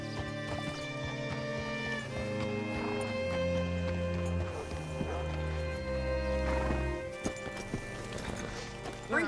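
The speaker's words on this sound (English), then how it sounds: "Hitch your horse up here." Horse hooves clip-clopping at a walk in Red Dead Redemption 2, a steady close rhythm of hoof beats over a low musical score, with a brief whinny near the end.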